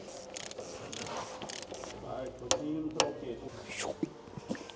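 A torque wrench ratchets as it tightens the oil filter cup on an Audi R8 engine to 25 Nm. Close-up mechanical clicking and ratcheting is topped by a couple of sharper clicks, with faint background noise.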